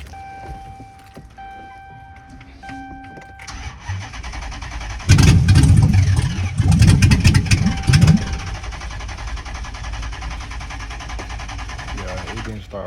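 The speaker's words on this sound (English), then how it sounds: "here gonna be the first start" A Chrysler 300 with a swapped engine is cold started: keys jangle, then the starter cranks in two loud bursts, and the engine settles into a steady, lower idle.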